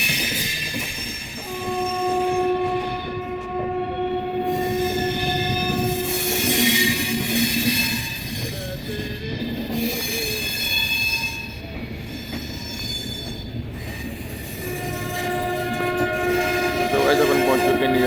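The UP Sampark Kranti Express runs at speed with a steady rumble of wheels on rails. Sustained high squeals from the wheels ring out over it, and the clatter rises and falls as the coaches roll on.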